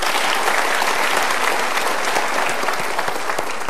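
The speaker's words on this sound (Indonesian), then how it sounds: "Kita berikan tepuk tangan untuk Mas Hilbram" A studio audience claps for Mas Hilbram on a Mario Teguh talk show, a thick, even roar of applause with no speech, filling the full few seconds.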